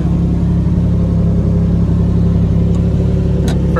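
A Lamborghini Diablo SVR race car's engine drones loudly and continuously from inside the cabin during a downshift into first gear, with a steady mid-pitched roar and a brief rising rev blip near the end.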